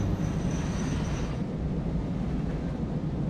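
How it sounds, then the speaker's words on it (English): A train rolling along its tracks in the factory-building game Satisfactory gives a steady, moderately loud rumble, with a thin whine that fades out early on. No one speaks. "Guys, we've got ourselves our own train."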